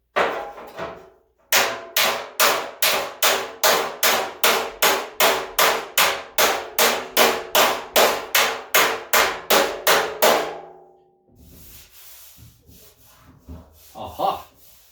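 A hammer beats out dents on a 1978 Ford F100 panel, about twenty evenly spaced sharp metallic blows in a steady rhythm, then quiet with a little handling noise.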